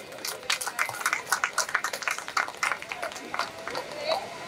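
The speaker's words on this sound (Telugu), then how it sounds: "అందరినీ ఏకం చేసిన ఆ మహానుభావుడికి గట్టిగా చప్పట్లు కొడదాం ఒకసారి" Audience at a pyramid meditation hall inauguration in Pudimadaka breaks into a burst of hand clapping for a speaker, steady and fairly close with uneven rhythm, with faint crowd murmur underneath.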